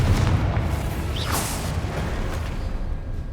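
Hogwarts Legacy's Confringo fire spell sets off a deep booming blast followed by a brief whooshing swish over a sustained low rumble.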